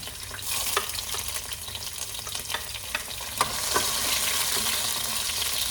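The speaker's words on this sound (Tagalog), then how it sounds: "magigisa tayo ng bawang. Unahin natin yung bawang." Garlic sautéing in a pan for a Filipino dish, a close, continuous frying sizzle broken by stirring clicks and scrapes.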